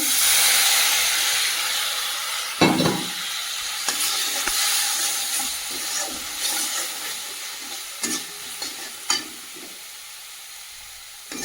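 Vegetables sautéing with salt and a splash of water in a pan, a steady steamy sizzle and hiss with scattered spoon clinks and scraping as the mix is stirred, no voices.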